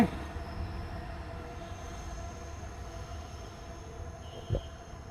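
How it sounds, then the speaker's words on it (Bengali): A metro train rumbles past at a distance in Dhaka, a low, steady drone with a brief clank near the end and no voices. "তিন নেতার মাজারের পাশেই দেখেন মেট্রো রেল যাচ্ছে"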